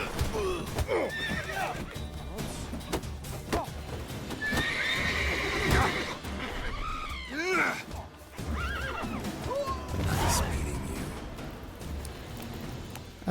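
Horse in The Witcher 3 neighing and whinnying with clip-clop hooves, several loud whinnies rising over steady hoofbeats and game ambience throughout.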